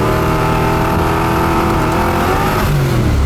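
Engine of a 1973 Camaro pulling steadily under acceleration, a loud continuous rumble with rising harmonics that shift pitch near the end as the transmission changes gear, with no talking.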